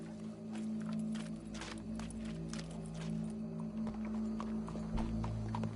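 A horse approaches in Red Dead Redemption 2, with a steady run of hoof clip-clops over a low background hum, moderately near and clear.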